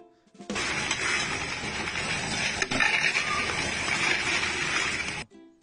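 A coin counting machine in the Philippines whirs and rattles steadily for about five seconds as coins feed through its mechanism, with one sharper clack midway, close and fairly loud.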